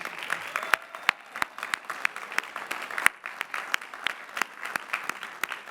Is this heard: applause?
yes